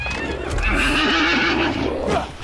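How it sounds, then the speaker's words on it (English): A horse in the video game Hunt: Showdown lets out a loud, close whinny lasting about two seconds, with a faint clatter of hooves underneath. "Kill the horse."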